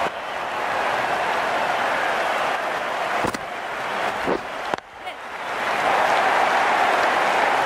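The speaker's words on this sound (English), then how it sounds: "The crowd are loving this." Crowd applause from the cricket video game Cricket 19, a broad, steady wash of clapping and cheering that briefly dips around a couple of sharp knocks, then swells back loud, with speech mixed in.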